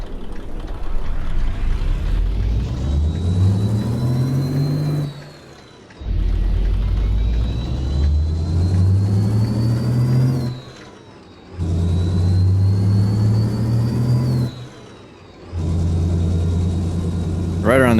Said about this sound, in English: Look how long it takes the RPMs to start going